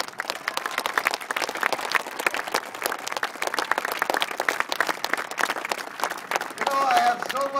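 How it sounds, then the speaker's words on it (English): Audience applause for youth sports coaches at an event with Tommy Lasorda, a dense sustained roar of clapping from a crowd that carries steadily throughout, with a brief tonal sound rising near the end. "So how about a nice round of applause for the coaches?"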